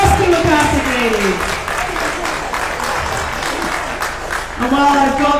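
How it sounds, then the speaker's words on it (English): Crowd applause at a masters weightlifting competition medal ceremony, a dense, steady clatter of clapping in a large hall with tonal voices or music sounding over it at the start and end. "Big round of applause to your 84 plus kilo category."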